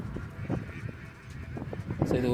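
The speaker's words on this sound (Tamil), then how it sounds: "அழகான ஒரு வாத்து கூட்டம்," A flock of ducks grazing by a lake beside a highway gives off repeated honking quacks, several overlapping calls near and far, with traffic noise beneath.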